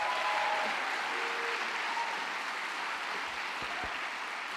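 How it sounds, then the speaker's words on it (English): Steady applause from a conference audience for two keynote speakers, broad and sustained throughout at moderate distance, with a few faint tonal bits and no clear talk over it. "Can we give them another round of applause"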